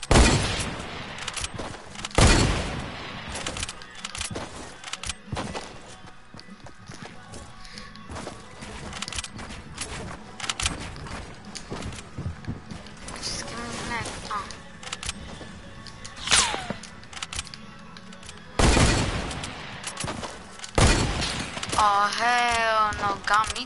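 Gunfire in a video game, sharp loud shots in scattered bursts and volleys across a long stretch, with voices talking between and over them.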